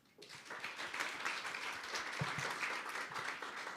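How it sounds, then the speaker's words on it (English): Audience members at a higher-education sustainability session give a panel of women a round of applause, a dense, even clapping that swells in quickly and holds steady. "I want to give these women another round of applause."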